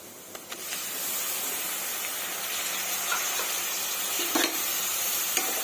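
Chopped tomatoes tipped into frying onions for a soybean curry, giving a steady, hissing sizzle with occasional stirring clinks and scrapes at close range.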